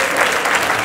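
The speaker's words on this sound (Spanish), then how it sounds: "fuerte el aplauso para Jaime" A brief, loud burst of dense audience applause at a live comedy show, many hands clapping steadily in a packed room for under a second.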